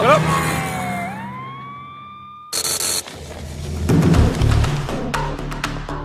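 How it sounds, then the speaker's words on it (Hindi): An ambulance siren in a Hindi-dubbed South Indian action movie scene, a wailing tone sliding up and holding, then cut into a burst of vehicle noise, engine rumble and loud traffic commotion. "पहले एम्बुलेंस को रास्ता दो।"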